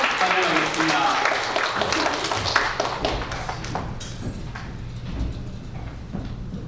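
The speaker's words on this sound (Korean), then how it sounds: "크게 박수로 환영하겠습니다" A church congregation at a Sunday service claps to welcome a speaker forward, with moderate clapping that thins out and fades over several seconds into room noise and light shuffling.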